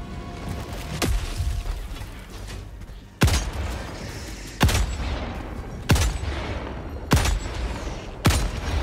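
Heavy gunfire in the video game Helldivers II, six loud separate booming shots spaced a second or more apart, each with a rumbling tail over a busy battle background.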